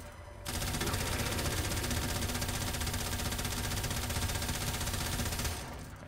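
Rapid automatic gunfire in the video game Warframe, a loud continuous burst of shots lasting several seconds with no pauses, starting abruptly and tapering off at the end.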